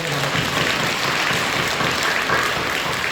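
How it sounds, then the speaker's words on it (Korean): A church congregation claps in steady, dense applause at a Sunday worship service, a continuous wash of hands heard at moderate level and without speech. "박수로 격려해 주시기"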